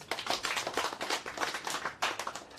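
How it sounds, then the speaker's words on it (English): A group of young people at a health discussion event applauding themselves, a dense, lively clatter of many hands clapping continuously at close range, rising and falling slightly in waves. "Can you clap hands for yourselves?"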